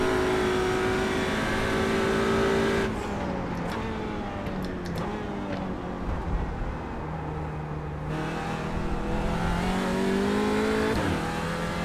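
Audi RS 3 LMS TCR race car at Laguna Seca in the iRacing sim, its engine revving and shifting through gears with rising and falling pitch, loud and continuous with a brief lift-off near the middle of the lap.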